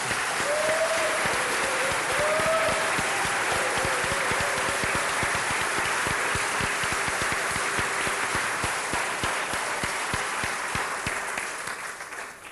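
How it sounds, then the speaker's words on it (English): An audience applauds at a gathering, steady dense clapping from a large crowd that holds for about twelve seconds before thinning slightly at the end. "I think they deserve an applause of your appreciation"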